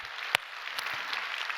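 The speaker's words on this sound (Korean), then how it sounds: "우리 하나님께 박수로 감사했습니다" A church congregation applauds during a Sunday worship service: a short, fairly faint wash of steady clapping with one sharper clap near the start.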